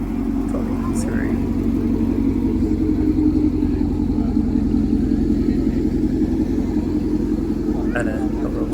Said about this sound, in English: We're now in the American section, so it's a Corvette driving through